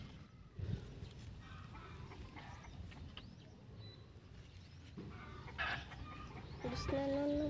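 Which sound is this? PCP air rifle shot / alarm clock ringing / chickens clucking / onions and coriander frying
chickens clucking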